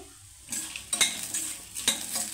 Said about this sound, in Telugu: ఇవన్నీ వేసాము కదండి, మంచి కలర్ వచ్చిన దాకైతే వేపుకోవాలండి. లో ఫ్లేమ్లో పెట్టుకొని అయితే వేపుకోవాలి.